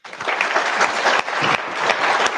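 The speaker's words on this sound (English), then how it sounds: "I feel like we need a little round of applause" An audience breaks into a round of applause, dense clapping starting abruptly and staying steady and loud for a couple of seconds with no voices over it.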